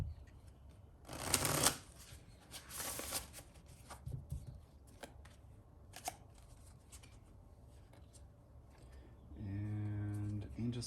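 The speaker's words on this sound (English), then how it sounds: "We'll give it one more shuffle." Oracle cards are shuffled by hand in two quick, crisp riffling bursts near the start, followed by softer card handling and taps, with a low hum and a brief tonal sound near the end.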